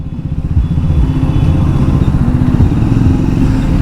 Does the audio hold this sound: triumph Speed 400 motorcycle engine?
yes